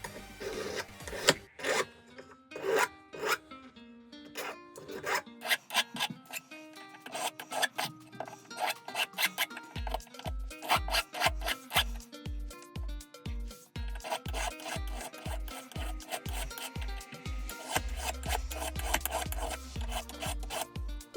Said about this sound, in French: Je lime tous les bords à la grosse lime plate